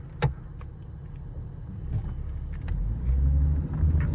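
A car with a cheap replacement transmission rumbles as it shifts into drive and slowly pulls away, preceded by a couple of clicks and clunks, its low engine drone building and getting louder toward the end.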